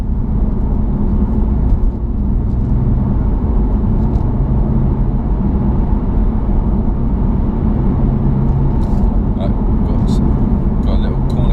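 A BMW M4 Competition engine hums and rumbles steadily from inside the cabin while driving, a constant close drone under ongoing talk.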